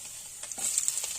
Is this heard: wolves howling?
no